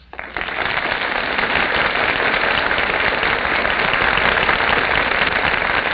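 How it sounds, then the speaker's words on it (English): Studio audience applause at an old-time radio broadcast greets the stars entering from the wings, a dense, steady roar of many hands that swells in quickly and holds loud and unbroken. "That applause, ladies and gentlemen, is the audience's greeting to our stars who are now entering from the wings"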